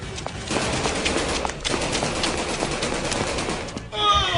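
Rapid bursts of machine gun fire rattle continuously for several seconds, loud and close, ending abruptly.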